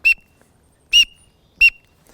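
Three short, sharp, high-pitched peeps, evenly spaced and loud against silence, blown on a waterfowl whistle to imitate a teal duck call.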